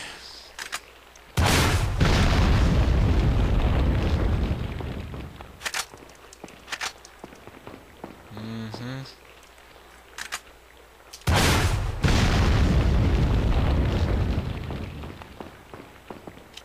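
Rocket launcher blasts in Resident Evil 4 during the Salazar fight, two big booming explosions with long rumbling tails, scattered thuds and clanks in between, and no talking.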